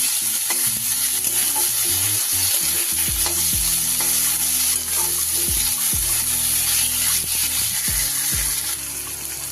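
Fish and tomato sizzle steadily in hot oil in a pan for a Bengali fish jhal, with repeated scraping stirs of the spatula cutting through the constant frying hiss, close and loud.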